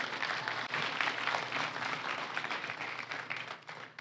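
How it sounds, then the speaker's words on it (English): An audience at an Amazon seller meetup event applauds, a dense, fairly soft wash of many hands clapping that gradually tapers off toward the end. "So give yourself a round of applause for making this happen."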